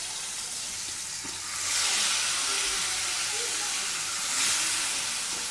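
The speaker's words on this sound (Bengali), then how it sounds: "তরকারিটা হতে হতে আমি এদিকে মাছগুলো সুন্দর করে কড়া করে ভেজে নেব, একদম লাল লাল করে।" Fish frying in hot oil in a frying pan, a steady sizzle and hiss that swells loudly twice as the fish shifts in the oil.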